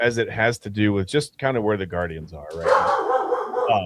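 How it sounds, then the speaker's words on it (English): A dog barks in the background as someone talks, a rough, noisy burst of barking arriving after the speech, moderately loud and somewhat muffled. "That's my dog."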